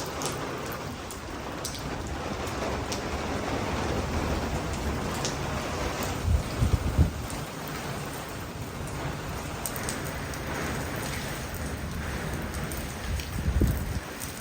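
Steady, dense rain falling and pattering on surfaces, with a few heavier low rumbles partway through; no voices.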